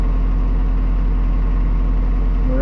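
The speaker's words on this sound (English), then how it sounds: "Here's the tractor." A tractor engine running steadily at about 1300 RPM, heard from inside the cab as a continuous loud low rumble with a constant drone throughout.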